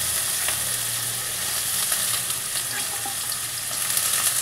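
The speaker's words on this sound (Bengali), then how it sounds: "আলুটাকে আমি লাল করে ভেজে নেব" Cut potatoes sizzle and crackle in hot oil in a home kitchen pan, frying for aloo posto with onions to follow, a steady close hiss with occasional pops.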